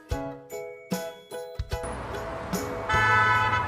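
A car horn honks in a series of short, bright toots, then ends in one longer sustained blast, loud and close with no one speaking.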